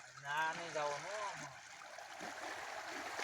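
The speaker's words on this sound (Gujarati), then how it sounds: "જો ભાઈ પાણી હાલ્યું આવે છે" Floodwater from the first rain of the season rushes along a village stream in a steady, broad wash of flowing water; a voice speaks briefly at the start over the current.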